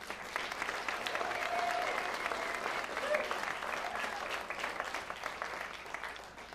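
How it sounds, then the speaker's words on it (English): A concert audience at a tribute show breaks into sustained applause, a dense wash of clapping that swells and holds fairly steady before easing off slightly at the end. "So they deserve the biggest round of applause ever."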